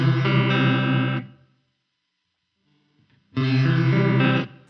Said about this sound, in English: Here you get a little bit more of the unaffected signal first and then the chorus comes in.